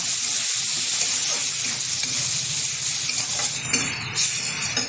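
Dal with turmeric, salt and chopped tomato sizzles and bubbles in a pan as it is stirred, a loud, steady hiss close up with scraping, and no one speaks.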